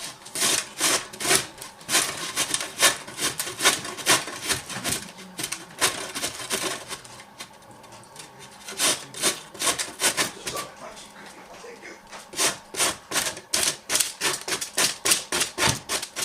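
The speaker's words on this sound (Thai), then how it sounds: "ล้างเอาแล้วก็มาขูดใช้อันนี้ขูดนะคะ" Peeled cassava (yuca) root is rubbed hard against a hand grater, giving rapid rhythmic raspy scrapes in bursts with a short pause midway, close and alone with no talking.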